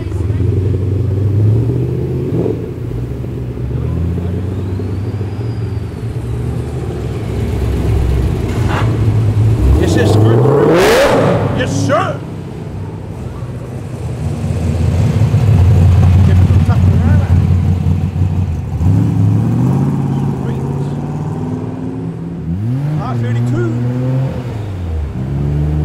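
Holden Commodore XR8 and other modified cars rev and pass a roadside cafe, engines surging loud then fading, with a short sharp rev in the middle and people talking throughout.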